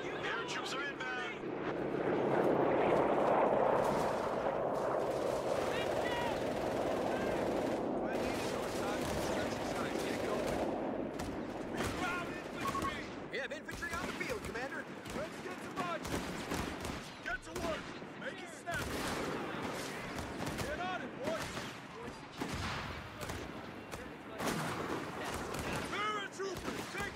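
Heavy machine gun and assorted gunfire in a military video game with paratroopers inbound, a dense, continuous barrage of rapid shots throughout, loudest early on, with voices talking over the battle.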